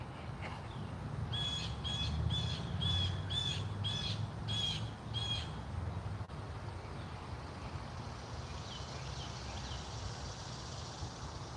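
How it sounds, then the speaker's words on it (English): A hawk calls in a quick run of about seven harsh, squawking cries over steady outdoor background noise, then falls silent while the ambient hiss continues. "hear that hawk, bro"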